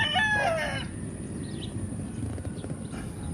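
On a Philippine breeding farm, one rooster crows once near the start, a short bright call over steady low background noise, followed by faint scattered clucks and farm rumble.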